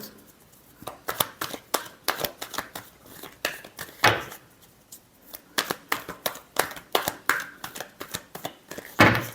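Tarot cards are shuffled close up in rapid bursts of crisp riffling snaps, with a short pause before a second run of flutters, and no talk.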